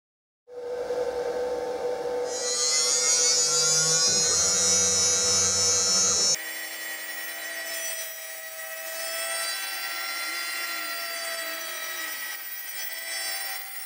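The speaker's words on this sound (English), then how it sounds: "what I actually did was just relieve the outer part of the thread with a smaller end mill" A milling machine relieving the outer part of a homemade ballscrew thread with a small end mill gives a steady, loud high-pitched whine with tonal cutting squeal, shifting to a lower sustained hum partway through, with no talking.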